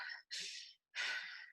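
A voice imitates labored, heavy breathing in a 1-to-1 ratio like a distressed animal, with three harsh, rasping breaths separated by brief gaps, close and loud.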